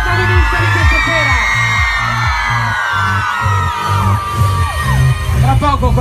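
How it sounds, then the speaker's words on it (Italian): A party crowd at a radio station's summer concert event shouts, whoops and cheers loudly and close, while a pulsing bass-heavy music beat thumps underneath. "Tutti un urlo libero per il protagonista di questa sera."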